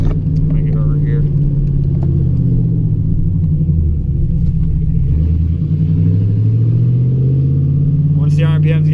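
An automatic car rolls downhill with a steady, close engine rumble that dips and rises in pitch as it shifts gears, while someone talks over it.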